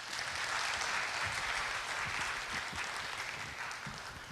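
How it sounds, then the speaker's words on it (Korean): An audience at a security conference applauds to welcome speaker Lim Jong-in, a steady, moderately distant clatter of many hands that fades a little toward the end. "그러면 박수로 우리 임종인 특보님을 모시도록 하겠습니다."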